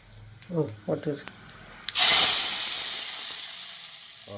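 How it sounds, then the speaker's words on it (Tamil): Hot tempering poured into a spinach-leaf dal kootu bursts into a loud, sudden sizzle that slowly fades as it keeps hissing, following a brief stretch of quiet talk. "இப்போ நம்ம அப்படியே இலை கூட்டு வந்து நல்லா தாளிச்சிடலாம்"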